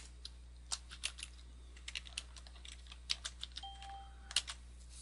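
Computer keyboard keys tapped while a password is entered during a WordPress user setup, producing a quiet, irregular run of separate clicks with short pauses between them and no voices.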